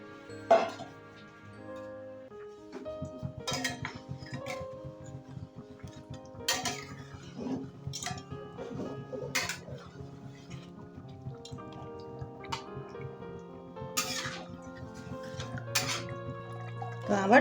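A metal lid clinks and scrapes as it is lifted off and set back on a pot of simmering Pangas fish, giving several sharp, close clanks over a soft bubbling, dripping kitchen background.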